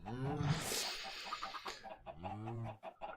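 Chickens clucking in SkyFactory 3, a Minecraft modpack, a few close, bright fowl calls in a short burst with game ambience between them.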